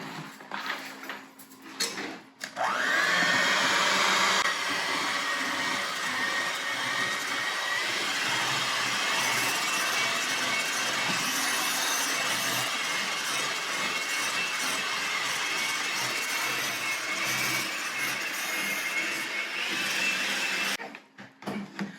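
Cake batter with an egg and a teaspoon of vanilla is mixed with a steady, loud whirring drone that starts after a brief rustle and runs continuously for about eighteen seconds before cutting off.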